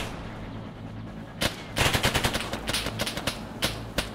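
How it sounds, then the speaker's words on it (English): Friendly troops in a video game fire bursts of rapid gunfire at mid distance, a cluster of shots followed by scattered single cracks, with a quiet ambient bed and no talking. "obviously that was fire from my own guys"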